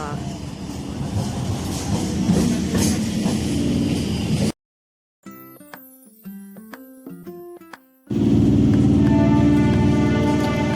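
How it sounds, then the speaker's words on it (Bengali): A passenger train on the route to Digha rolls in with a loud, steady rumble and clatter of wheels, briefly cut by a silent gap and a stretch of music before the heavy rolling noise returns. "একদম টাইমেই ট্রেনটা চলে এসেছে।"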